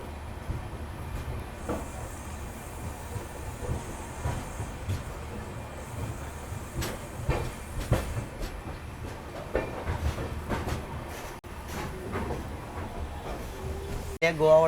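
A Duronto Express sleeper-class coach on the Ernakulam to Mumbai LTT run rolls along with a steady rumble and rhythmic wheel clacks heard from inside, with faint voices in the carriage.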